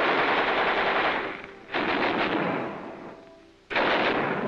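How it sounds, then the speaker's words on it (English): World War II machine guns and other weapons at Tarawa being test fired in loud, dense sustained bursts, with two fresh volleys breaking out after brief lulls. "Check and test fire all weapons."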